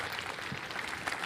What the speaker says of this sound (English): we're going to have like a massive round of applause for Starlink